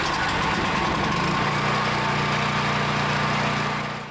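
A small gas-powered generator, sitting slightly off level on a cold day, cranks and catches, then settles into a steady, loud, close running drone that continues to the end.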